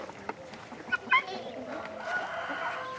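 Chickens in a small group on a cold morning waiting for grain, with a few clucks and squawks rising briefly amid a voice talking nearby and low background rustle.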